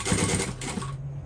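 A sewing machine stitching a bowler bag in a short burst of rapid, close mechanical whirring that slows and fades to a quiet hum.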